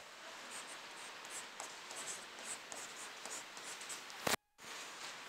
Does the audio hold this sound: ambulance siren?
no